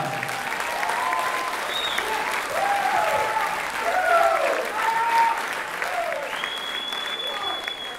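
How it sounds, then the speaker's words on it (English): An audience applauds steadily at a spring beginning band concert honoring student solo and ensemble medalists, with a few whistles and cheers rising over the sustained clapping. "Please give them a round of applause."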